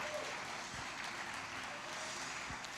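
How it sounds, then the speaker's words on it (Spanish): Church congregation clapping during a Spanish-language service, a brief, even burst of many hands applauding at once, close and steady with no voices over it. "Vamos, levante un aplauso al Señor."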